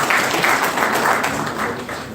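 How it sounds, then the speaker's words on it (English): An audience at a creativity workshop applauds visiting politicians. The clapping is dense and steady, a loud, continuous wash of many hands with no talking over it. "Can we clap for them?"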